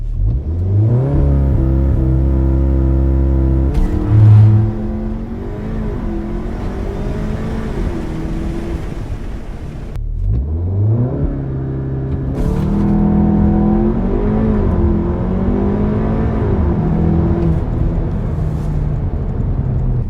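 A Cupra Ateca 300 hp SUV accelerates hard through the gears, its engine note climbing loudly, dipping at each shift near the five- and ten-second marks, then rising again in strong, sustained pulls, heard from inside the cabin.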